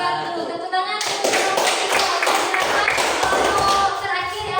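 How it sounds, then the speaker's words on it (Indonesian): Classroom applause for the last group at an open class, a steady burst of many hands clapping that starts after a brief opening and continues to the end, with some voices mixed in. "Tepuk tangan untuk"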